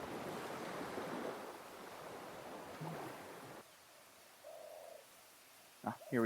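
Loud rushing water in Dark Souls, a steady broadband wash filling the first few seconds and then dropping away, followed by a faint tonal cue and a brief sharp burst near the end.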